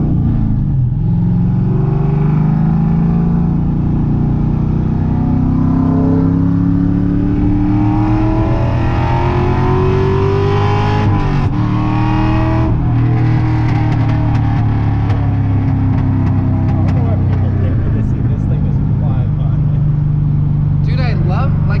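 A Mazda RX-7 with a swapped LS2 V8 accelerates hard from inside the cabin, the deep engine note rising steadily through the gears with a brief shift break, loud and continuous while a passenger talks excitedly over it.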